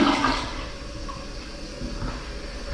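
A Gerber toilet in a new hotel bathroom flushes with a loud, rushing swirl of water that settles into a steady, quieter refill hiss close by.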